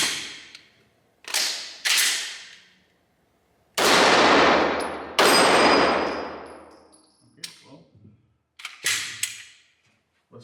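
A Canik Mete SFx pistol fires a string of sharp, loud, close shots with ringing decay, spaced irregularly with pauses between, followed by quieter clicks and handling noises.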